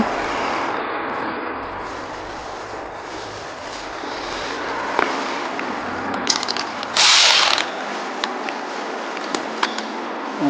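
A ratchet works on the 10mm bolts holding the VGT actuator on a Hyundai Santa Fe CM R engine that has an engine warning light and low power. Scattered close clicks and one brief harsh burst sit over a steady hum.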